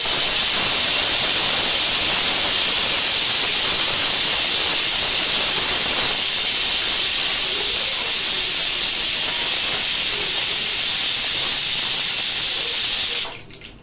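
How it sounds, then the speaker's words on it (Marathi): A loud, steady sizzle of turmeric and asafoetida tempering in hot oil hisses continuously, then cuts off abruptly at the very end. "हळद, हिंग याची फोडणी करून घ्यायची चांगली, अशी छान तडका द्यायचा आहे"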